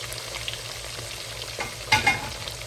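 Pork chops sizzle and crackle in hot olive oil, a steady close frying hiss with a couple of louder spatters and stirring knocks near the end.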